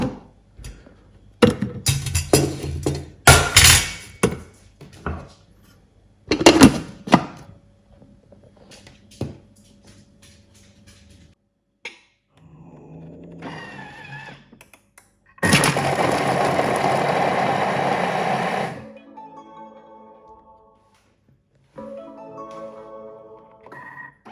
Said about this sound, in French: On va commencer par hacher nos oignons. Là, je le fais au Thermomix